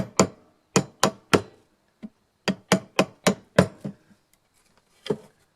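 A hand chisel is struck into wood while a guitar is shaped with hand tools. About a dozen sharp, close knocks come in quick clusters with short pauses, then one last strike after a gap.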